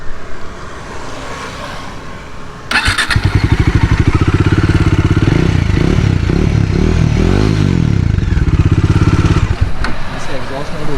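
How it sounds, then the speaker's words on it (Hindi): A Bajaj Dominar 400 motorcycle's exhaust goes from a quieter murmur to a loud, close, throbbing engine note partway through, holding a steady pulsing rumble with slight rises in pitch before easing off at the end. "इसका जो एग्जॉस्ट नोट है वो"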